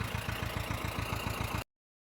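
A small tractor engine idles steadily nearby with a fast, even low-pitched chugging pulse, then the sound cuts off abruptly near the end.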